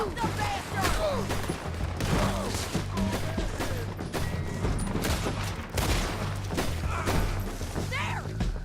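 Gunfire in the Red Dead Redemption 2 video game, a dense fusillade of overlapping shots and thuds with shouting voices mixed throughout, loud and continuous.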